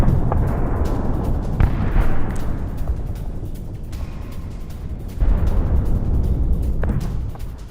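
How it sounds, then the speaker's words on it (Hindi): Heavy booms of IDF tank fire striking Gaza, captured in news footage: a continuous rumbling barrage with sharp blasts surging around the second and fifth seconds, loud and dense with no voices. "आईडीएफ ने टैंक से इन हमलों को अंजाम दिया"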